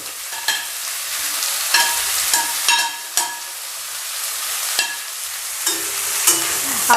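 Capsicum, shredded cabbage and carrot stir-frying in a hot pan over a medium-high gas flame, with a steady loud sizzle broken by sharp scraping clatters of a spatula at irregular intervals and no talk.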